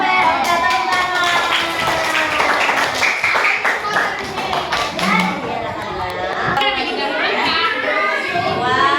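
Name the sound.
children clapping hands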